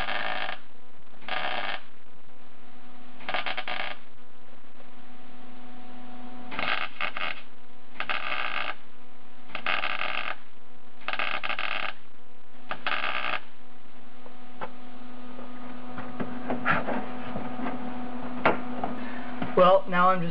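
Short bursts of welding crackle repeat in an uneven rhythm over a steady electrical hum as the joints of a small repair strip are welded into the rear passenger floor sheet metal of a 1976 Mazda RX-5 Cosmo; the bursts are close and moderately loud.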